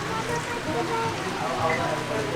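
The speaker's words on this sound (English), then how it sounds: "it's been raining for a good amount of time now" Rain falls steadily and evenly in the Marshall Islands, a continuous soft patter with no distinct breaks; no speech is heard.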